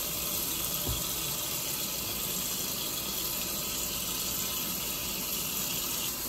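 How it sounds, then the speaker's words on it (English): Water runs steadily from a tap onto a lace frontal wig during bleaching, a constant soft hiss and splash at close range with no talking. "I'll just put a little bit of water on it"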